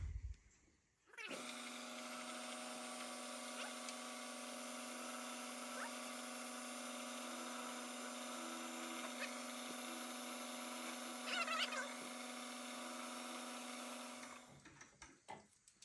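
A power drill whirs at a steady, sustained pitch for about thirteen seconds, close and continuous, then winds down and stops.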